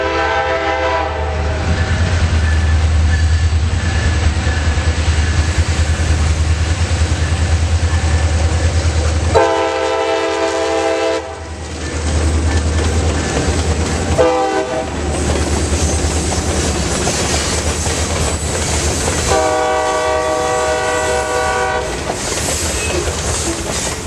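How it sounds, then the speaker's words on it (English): A loud steam locomotive rumbles past with clattering wheels while its horn blares in several long blasts, close by. "nearby the shop there was a railroad, and I heard a train"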